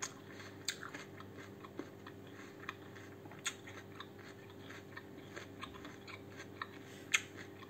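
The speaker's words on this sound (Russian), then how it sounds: "челюсть устала жевать." Salad being chewed and crunched during a mukbang, with sharp crisp bites and crunches scattered irregularly over a low steady background, close and fairly quiet, no talking.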